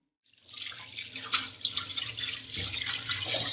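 Tap water runs steadily into a sink while catfish are being washed, a close splashing rush with small irregular spatters.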